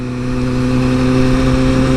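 Motorcycle engine accelerating toward highway speed, a loud, steady close-up drone with a strong low rumble throughout, heard alone.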